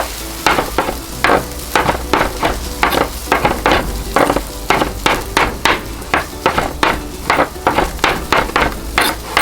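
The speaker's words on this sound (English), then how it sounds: "Just gonna chop that up a little bit." Fresh basil chopped with a knife on a cutting board, a rapid, fairly loud series of sharp taps in an uneven rhythm, close by and continuing throughout with no talk.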